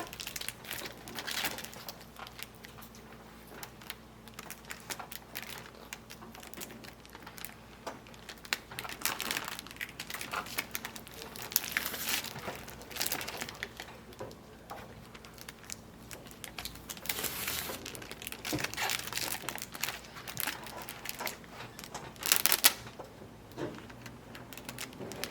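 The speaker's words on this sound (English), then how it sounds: "we are putting a lot of tape so it doesn't leak" Tape crinkles and rasps in irregular bursts as it is pressed on to seal a children's science experiment, fairly quiet and close, with no voices.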